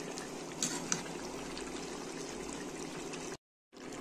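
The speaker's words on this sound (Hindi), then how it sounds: "इस स्टेज पे थोड़ा सा पानी ऐड करूँगी ताकि चिकन जो है सॉफ्ट हो जाए" Water poured into a pan of chicken frying in plenty of oil for tahari gives a steady, quiet hiss and rush. It cuts out briefly near the end.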